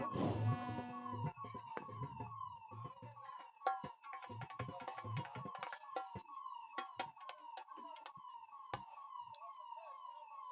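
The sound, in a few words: ambulance siren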